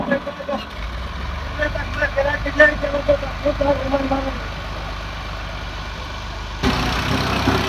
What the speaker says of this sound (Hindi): जोर लगा रहा है जी ट्रैक्टर